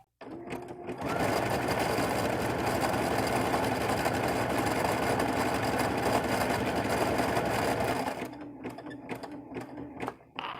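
A sewing machine runs steadily for about seven seconds stitching a buttonhole, a close, even mechanical whir with rapid needle rhythm, starting and stopping with a few soft clicks.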